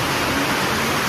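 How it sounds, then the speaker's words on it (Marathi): Heavy rain pours down on a village during the Diwali season: a steady, dense, even hiss, loud and close, with no voices over it. "आणि पाऊस बघा"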